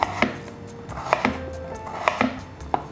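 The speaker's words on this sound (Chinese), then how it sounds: "把马铃薯切厚片" A knife chops a peeled potato on a cutting board, cutting thick slices into strips, with four sharp, evenly spaced knocks against the board, close and clear, and no talk.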